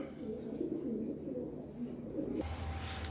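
A pair of high-quality red checker pigeons coo softly in low, rolling phrases at close range, fading out near the end as a steady low hum takes over.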